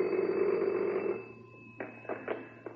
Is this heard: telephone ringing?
yes